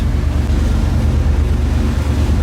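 A sailboat motors out at about ten knots under engine power, a loud steady low drone of engine and hull through the water mixed with wind buffeting and wave wash, continuous with no voices.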